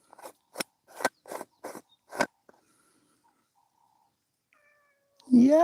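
A pet cat's single drawn-out meow, close and clear, coming right after a quick series of sharp snipping, rasping clicks and a stretch of near silence.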